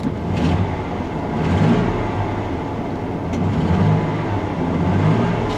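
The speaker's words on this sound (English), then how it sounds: "Rev it up." Car engine revving in a rough, throaty swell that rises and falls in a few broad surges, close and steady with no talk over it.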